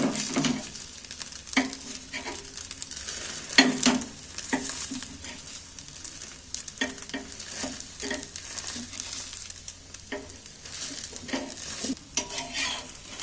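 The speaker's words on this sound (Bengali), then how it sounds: "এইবার দেখো আমি খুন্তি দিয়ে কেটে নিচ্ছি সাইজ করে, পিস পিস করে।" Egg paneer being cut into pieces with a metal spatula in a hot pan, with repeated scraping and tapping strikes against the pan over a light, steady sizzle, close and fairly loud, with no voices.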